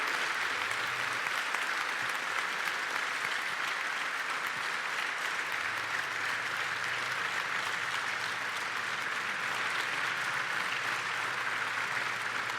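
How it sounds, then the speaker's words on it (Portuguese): Steady, full applause from an audience at an aviation summit in Portugal, dense and continuous for the whole stretch, with a faint low hum beneath it. "Eu pedia a toda a plateia que está aqui connosco uma salva de palmas para o comandante Nuno Melarinho"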